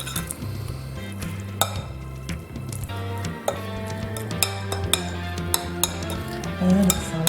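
A utensil stirring Polish royal salad in a bowl, giving soft wet squishing and repeated light clinks against the dish, fairly close and steady with no talk.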